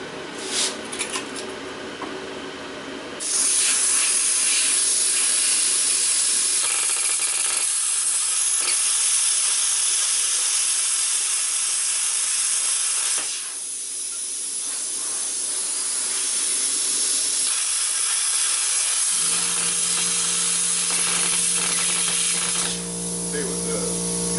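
A Lotos LTP5000D pilot-arc plasma cutter cuts a thin piece of aluminum with a loud, steady roaring hiss that holds for most of the time, shifting in tone partway through and settling into a lower buzzing hum near the end.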